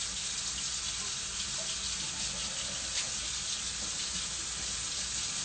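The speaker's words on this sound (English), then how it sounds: "You're rinsing your spatula?" Kitchen tap water runs over a spatula being rinsed, an unbroken hiss of flowing water at moderate distance that holds steady throughout.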